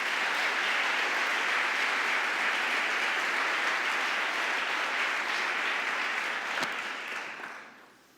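Sustained applause from an audience welcoming a speaker at an address, steady and full for several seconds before tapering away toward the end.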